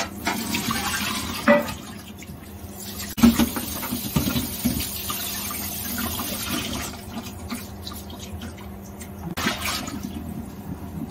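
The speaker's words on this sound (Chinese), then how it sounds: "就咁洗下佢就好干净噶啦" Food rinsed with flour under a running kitchen tap for a home winter solstice dinner: steady close water flow and splashing with patter and rubbing, a few louder splashes, no talking.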